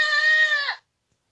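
A single drawn-out goat bleat, loud and close, lasting under a second and followed by silence.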